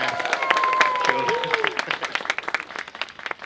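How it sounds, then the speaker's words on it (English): A wedding-ceremony crowd gives a round of applause for the flower girl: dense clapping with cheers and voices, thinning to a few scattered claps near the end. "can we have a massive round of applause for our flower girl"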